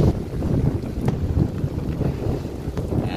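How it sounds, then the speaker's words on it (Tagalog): Steady night wind rumbles and buffets the microphone under a bridge over the Pasig River near the LRT1 line, a continuous low roar with no talking. "mahangin lang po ngayong gabi"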